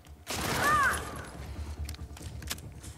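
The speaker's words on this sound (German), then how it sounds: "Der Schuss ist durch die Tür gegangen," Gunfire in the video game The Last of Us Part 2: a loud broadband shot bursts out near the start and trails off into a rumbling decay, followed by scattered fainter clicks and clatters.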